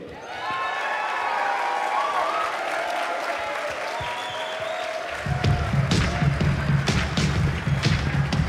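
Applause rises from a crowd honoring the winners of a capture-the-flag Quake tournament at QuakeCon 2014, a sustained wash of clapping that swells louder midway, with faint voices and thumps in the hall.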